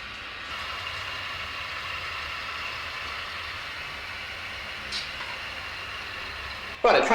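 A steady, whirring mechanical rumble of a model train running continuously on a layout track, fairly quiet, with a brief clatter near the end.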